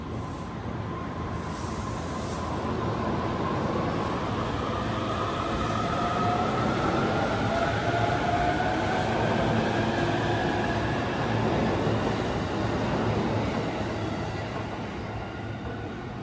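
A Joban Line train bound for Abiko rolls along at night, a steady loud rumble with faint rising motor whine and wheel noise, continuous throughout without talk.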